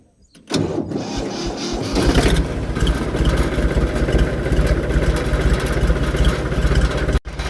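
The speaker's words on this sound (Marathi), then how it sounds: "पूर्ण रस्त्याच्या खालच्या पट्ट्यात चालली वर ट्रॅक्टर घेऊन आणायला" A tractor engine starts up nearby and settles into a loud, steady rumbling run with a rhythmic low throb, continuing until a brief cutoff near the end.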